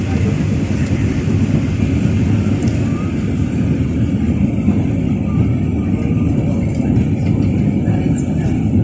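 Steady low rumble and rolling hum of a Manila LRT light rail train in motion near Libertad Station, heard continuously from inside the carriage with no talking.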